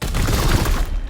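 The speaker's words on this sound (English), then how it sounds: "Firing now!" A loud, dense volley of gunfire from the video game Chaos Gate rattles on continuously for about a second before starting to trail off.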